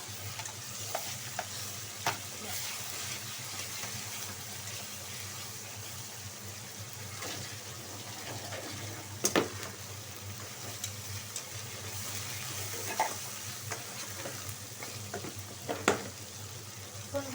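Onion, ginger and garlic paste fries in a pan, a low steady sizzle running throughout with scattered scraping stirs and occasional sharper clicks, fairly quiet and close, with no voices.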